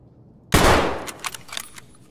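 A single loud Mosin rifle shot cracks out in a video game, a sharp blast that rolls off into a fading echo, followed by a few faint clatters.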